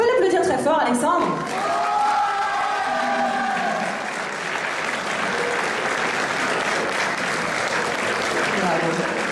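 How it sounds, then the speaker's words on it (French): An audience at the prize-giving of the Shaker Challenge 2014 contest at the Hotel New York breaks into steady, dense applause that carries on evenly for several seconds, with a few voices at the start. "applaudir très fort, Alexandre."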